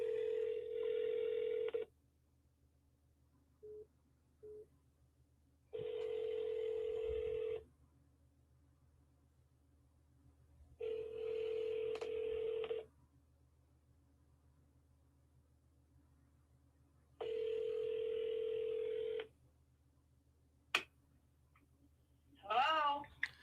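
Ringback tone on an outgoing phone call: four long, steady buzzing rings separated by silent gaps, with a couple of short clicks between them and a faint beep near the end, over a low hum.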